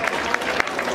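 Applause from an audience at a children's jacket handover event in Progreso, Yucatán, with several sharper claps standing out over a steady wash of clapping, close and fairly loud.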